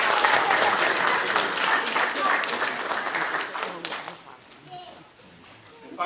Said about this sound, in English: Please recognize your loved ones in attendance with a round of applause.